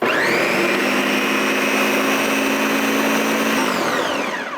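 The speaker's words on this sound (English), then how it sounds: "Nice and blended." A kitchen blender purees birria chili sauce on a medium setting, giving a loud, steady whirring motor drone with a high whine that runs for about four seconds and then spins down. No one speaks.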